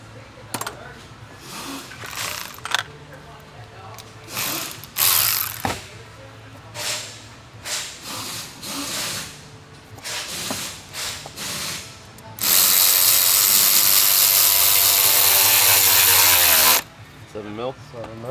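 A hand ratchet clicks in short bursts while snugging intake manifold bolts on a 2017 Passat, close up, followed by a sustained loud burst of harsh noise; a person talks between the ratcheting.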